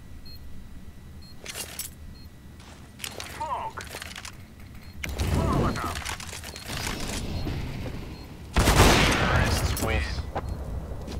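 Gunfire in the shooter game CS:GO comes as loud bursts and single cracks over steady game ambience and footsteps, with players talking over the action.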